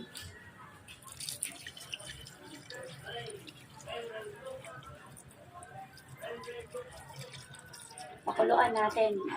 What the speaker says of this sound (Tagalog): Lagyan natin ang tubig.